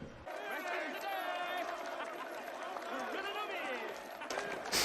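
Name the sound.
prison inmates cheering new arrivals in a film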